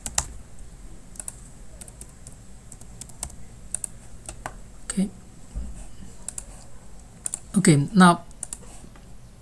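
Someone types on a computer keyboard to log in to a website. Sparse, close clicks of individual keystrokes come through, with a short burst of talking near the end.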